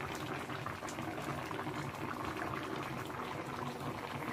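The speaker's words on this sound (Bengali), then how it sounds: "একটা বলক চলে আসছে" A pot of curry with greens bubbling at a steady boil, with a dense continuous rumble and popping that holds constant throughout, close by and with no talking.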